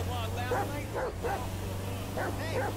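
Chop the dog barks in Grand Theft Auto V, a few short bow-wow barks spaced through the clip over a steady low engine hum, with game voices nearby.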